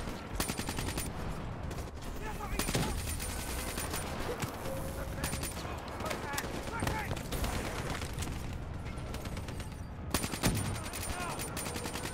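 Sustained rapid gunfire from Black Ops 3 campaign shooting on Xbox One, dense bursts of automatic shots running nearly nonstop at steady loudness, with game voices mixed underneath.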